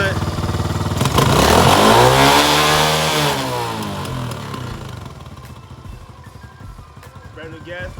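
A four-wheeler engine runs on fresh gas after a new carburetor is fitted. It rises in a loud revving sweep, then settles back to a steadier running note, close by and without voices.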